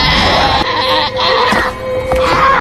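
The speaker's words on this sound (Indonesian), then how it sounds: "kambing yang dibawa oleh Taro akan digunakan untuk memasukkan Lamia ke dalam tubuh kambing." A goat bleats loudly and close in a horror film scene, two or three long wavering cries with brief pauses between them and no talk.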